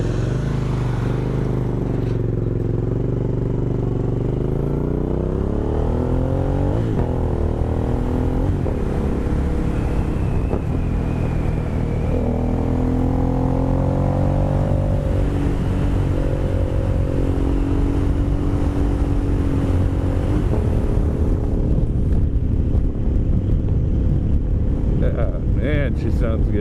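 An Aprilia Caponord 1200 motorcycle fitted with a GPR exhaust, revving and accelerating while riding, with a loud, growly engine note rising and falling over steady wind noise.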